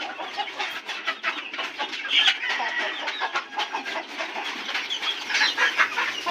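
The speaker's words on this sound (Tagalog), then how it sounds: "magpapakain tayo ng mga manok na ito" A flock of chickens at an organic farm clucking busily while being fed, a dense, continuous chorus of overlapping clucks close by, alone without talk.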